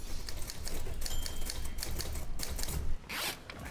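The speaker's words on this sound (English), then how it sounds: "right now on a good old manual typewriter" Olympia manual typewriter being typed on, a rapid run of sharp mechanical key strikes and clacks with a ratcheting carriage sound near the end, close and alone without voices.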